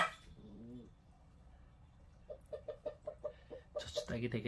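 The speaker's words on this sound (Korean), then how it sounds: "저 수탉이 되게 순한 수탉인데" A docile rooster clucks in a rapid series of short, fairly quiet calls over background chatter, with a voice speaking at the start and end.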